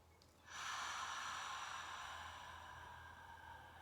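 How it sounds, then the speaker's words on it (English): A deep breath drawn in and let out during a parent-and-child yoga session, heard as a sharp intake followed by a long, steady airy exhale, close and alone. "Inhale and exhale."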